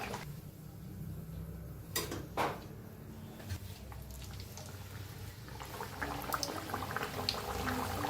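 Carrot puris deep-frying in hot oil give a steady soft sizzle and bubbling hiss, with a few sharp clicks and knocks of a utensil against the pan, fairly quiet and close.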